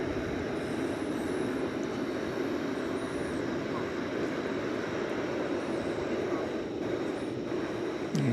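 An American Airlines Airbus A321 arrives at Dallas Fort Worth at night, a steady distant engine rumble with faint whistling tones above it and no clear talk.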